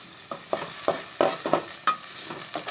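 Chopped onion frying in mustard oil for a small pond-fish dish, with a soft sizzle under a series of sharp spatula stirs and scrapes spaced about every half second, close and fairly quiet.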